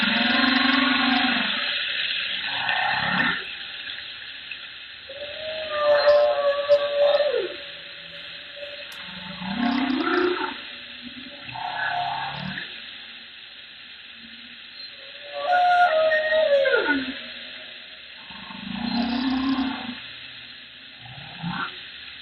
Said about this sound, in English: chunk of humpback whale sound from a song session in Monterey Bay in March of 2023